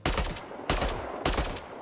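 Three loud, sharp gunshots fire at an even pace in Mass Effect Andromeda, each a broadband burst with a short ringing tail, close and punchy like game weapon fire.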